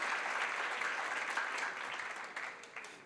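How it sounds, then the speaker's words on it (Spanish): Audience at an Atomy business presentation in Colombia applauds top earners, a dense wash of clapping held steady before tapering slightly toward the end. "Un aplauso para esos diamantes que ya han alcanzado esos ingresos."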